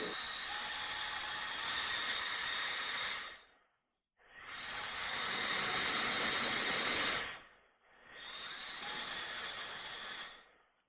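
A powerful handheld air blower rated at 180 W with four speeds and up to 120,000 RPM runs in three loud, steady high-pitched whooshing bursts, each spinning up and cutting off with short silent gaps between.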